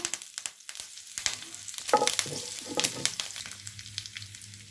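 Mustard seeds, cumin, dried red chilies and curry leaves hit hot oil for a tempering in a home kitchen, giving a loud crackling sizzle with sharp popping bursts that settles into a steady fry, with no talking.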